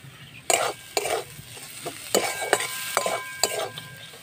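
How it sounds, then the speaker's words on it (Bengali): A flour-based snack fries in a pan while being stirred, with a steady sizzle and about eight sharp scraping strokes of a utensil against the pan, close and clear, with no talking. "এবার আমি ভালো করে এটা ভাজা ভাজা করে নেব।"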